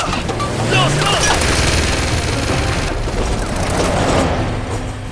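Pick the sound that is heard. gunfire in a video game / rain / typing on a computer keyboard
gunfire in a video game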